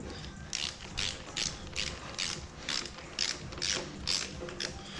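Torque wrench tightening bolts to 12 foot-pounds on an old ranch truck, its ratchet clicking in short repeated bursts roughly every half second, close and steady with no talk.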